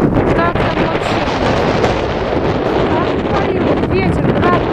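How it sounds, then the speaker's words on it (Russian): Strong wind buffets the microphone during a hailstorm, a loud, continuous roar that fills the whole clip with no letup. "Ветер, град"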